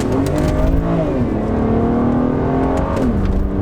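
BMW Z4 sDrive30i accelerating hard in manual Sport Plus mode on a road, engine revs climbing in loud sweeps with a clear upshift drop partway and another near the end, steady cabin roar throughout.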